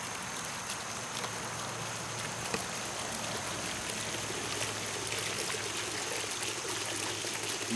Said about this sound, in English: it does have that nice sound with water falling on water.